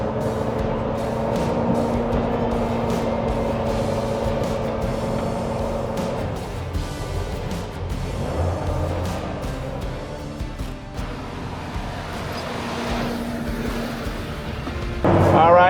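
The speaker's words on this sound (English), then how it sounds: "we're enjoying some driving, skipping work in our cool Land Cruiser" A restored 1977 Toyota FJ40 Land Cruiser with fuel injection drives along, its steady engine and road noise filling the cabin continuously, with a brief rise in sound near the end.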